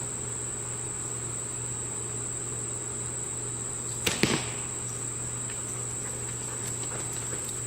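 A compound bow is shot at an outdoor range: one sharp release snap and arrow whoosh around the middle, against a constant background of insect and cricket chirring.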